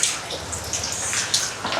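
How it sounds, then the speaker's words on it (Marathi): Heavy rain falling and splashing into pooled water on a school ground, a steady close wash of water with brief louder splashes throughout. "आज सकाळ रात्रीपासूनच पाऊस लागलाय, खतरनाक पाऊस लागलाय."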